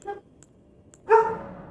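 A dog gives two short barks, a small yip first and then a louder, fuller bark about a second later, fairly close against a quiet background.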